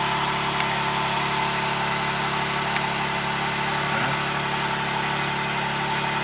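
A 2023 BMW G80 M3 engine idling in an underground garage just after starting, a steady low hum with a constant droning tone and no voices.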